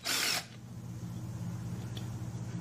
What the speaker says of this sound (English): The magnet's held on with 3 quarter-inch bolts. Got some grade 5 7/16 socket should fit it.